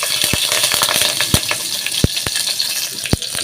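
Cumin seeds and green chilies crackle in hot oil as a tempering for dal tadka, with a steady close sizzle broken by sharp, scattered pops.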